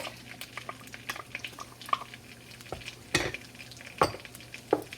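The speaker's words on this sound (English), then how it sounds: "Now that my butter is melted, I'm going to add my garlic." Garlic stirred in melted butter over medium heat for a white pasta sauce, a soft low sizzle with scattered spoon taps and clinks against the pot, a few sharper knocks near the end.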